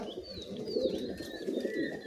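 A pair of giribaz pigeons coo at a breeder's house, soft rolling throaty calls repeating close by while faint high chirps and whistles drift in behind.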